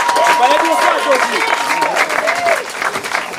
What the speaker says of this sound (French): Est-ce qu'on peut faire un tonnerre d'applaudissements pour ça?